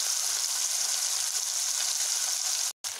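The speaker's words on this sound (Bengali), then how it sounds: "মাছগুলোকে আমি ছেড়ে দিলাম।" Small fish frying in hot oil in a wok, a loud, steady sizzle throughout that cuts out briefly near the end.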